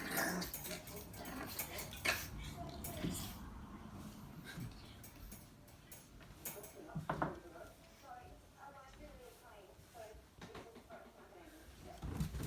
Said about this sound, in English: Keep barking. Keep barking.